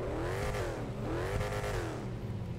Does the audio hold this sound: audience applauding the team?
no